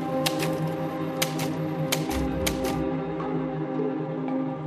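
A typewriter clacks in sparse, irregular keystrokes, a few sharp taps spaced apart and then a quick cluster, over a steady background hum with no speech.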